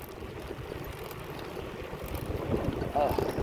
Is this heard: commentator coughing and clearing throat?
no